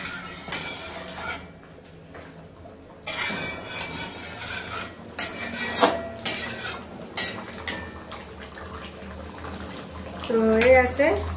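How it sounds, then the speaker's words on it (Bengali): Spoon scraping and clinking around a cooking pan while garam masala paste is stirred in, with irregular metallic knocks and faint sizzling between bursts of talk. "গরম মশলা পেস্ট দিয়ে দিলাম, এবার নেড়ে নেব একটু"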